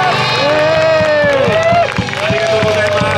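An audience at a comedian's live music show cheers and whoops loudly, a dense crowd roar with rising and falling yells, while faint clapping is lost under the noise.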